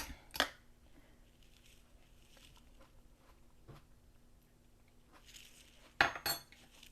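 A spoon clinks against a bowl of fajita salsa, a sharp metallic tap near the start and a louder cluster of clinks toward the end, with quiet kitchen shuffling between.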